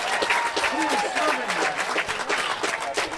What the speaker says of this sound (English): a huge round of applause from the crowd